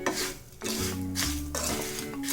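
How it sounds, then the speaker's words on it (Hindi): A spoon stirring and scraping a dry spice mix for masala rava idli in a pan, long rhythmic rubbing strokes about every half second, close and steady with no talk. "इसे हमें अच्छे से मिक्स करना है।"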